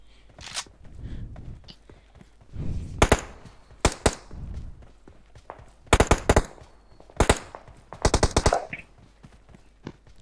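Rapid bursts of gunfire in an online shooter game, sharp cracks in short volleys separated by quieter stretches, with a voice speaking softly beneath them.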